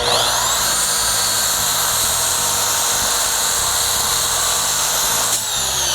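A FLEX car polisher whirs steadily at close range with a high-pitched motor whine, its pad being cleaned with a spur, continuous and loud for several seconds before a brief dip near the end.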